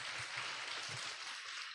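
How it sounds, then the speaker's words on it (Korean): A church youth congregation claps to welcome a newcomer, a steady, dense spatter of applause with some low thumps underneath. "박수로 환영하겠습니다"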